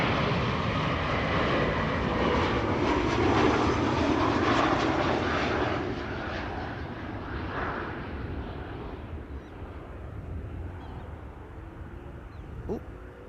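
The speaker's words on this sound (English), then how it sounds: "BA arriving from London City, this time round not being stuck somewhere on my flight radar screen" British Airways plane from London City landing at Amsterdam Schiphol, a loud broad jet roar that fades steadily as the aircraft passes, with a voice speaking over it.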